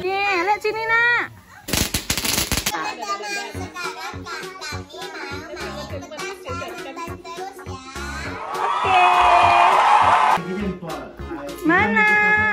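Firecrackers and fireworks crackle in a dense burst early on, then scattered pops continue under children's and adults' chatter, with a loud hissing fizz toward the end.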